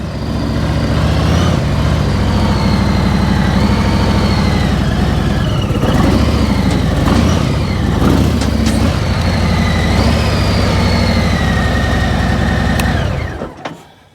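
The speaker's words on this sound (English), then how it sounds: "I'm going to get on, pull the motorcycle on" A motorcycle engine runs steadily and loudly up close as the bike is ridden onto a single-bike trailer, with slight revving before it cuts off abruptly at the end.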